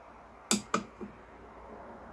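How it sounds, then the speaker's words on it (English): A metal chisel slips out from under the end of a guitar fret during a fret lift in a neck reset, giving two quick sharp clicks and a softer third tap, faint and close against quiet room hiss. "The sound you're hearing is my chisel slipping out."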